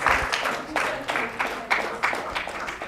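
An audience at a healthcare research workshop applauds a speaker, close clapping that swells and dips in quick rhythmic surges without any voices.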